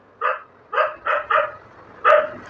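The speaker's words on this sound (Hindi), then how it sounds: "पीछे कुत्ते भौंक रहे हैं" Dogs bark in the background, five short sharp barks in an uneven burst pattern, the first four close together and the last after a brief pause, moderately loud over a quiet room.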